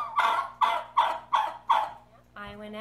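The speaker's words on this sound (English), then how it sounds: "I don't like turkeys." A turkey gobbles indoors in a house, giving five quick, evenly spaced rattling calls close by. A softer warbling call follows at the end.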